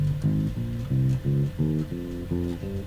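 An electric bass guitar plays a scale across its strings, about ten evenly spaced plucked notes in a steady, deliberate rhythm, low and close, with a faint hum underneath.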